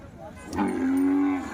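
At a cattle market in Gangakhed, a young bull lets out a single deep, sustained moo nearby, rising and then holding steady before fading.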